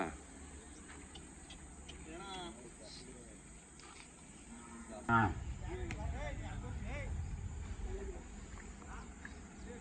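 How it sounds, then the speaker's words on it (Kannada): Hallikar cows low at the Magadi cattle fair, a few drawn-out moos rising over the murmur of people talking in a crowded outdoor setting. "ಯಾವ ಹಸುಗಳು ಇವು?"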